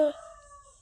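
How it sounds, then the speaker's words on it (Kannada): A rooster's crow, caught mostly at its tail end, a short loud call that trails off quickly in a quiet outdoor setting. "ಮೇಳೆಯಿಂದ ಕೋಳಿ ಕರೀತಾ ಉಂಟು ನಿನ್ನನ್ನು"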